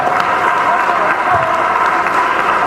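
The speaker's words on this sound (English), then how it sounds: "let's clap for you, because you deserve some accolade" An audience at a panel session claps for the teachers in the room, loud close applause filling the whole short stretch with a steady, even texture.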